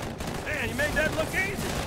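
Rapid gunfire in Halo 2, part of Halo: The Master Chief Collection on PC, a short dense burst of shots set against game sound, with bright whistling effects above it.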